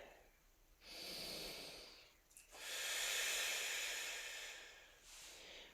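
Two deep, audible breaths are taken during a standing yoga flow. Each is a long, airy hiss of inhaling or exhaling, close to the mic and fairly strong, with a short quieter gap between them and a fainter breath trailing at the end.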